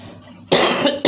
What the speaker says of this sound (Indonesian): saya juga manusia, makanya batuk juga